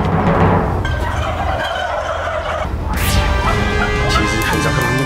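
A large flock of turkeys on a farm gobbles loudly and continuously at close range, dense overlapping calls filling the air, with a sharp rising squawk partway through and faint voices beneath.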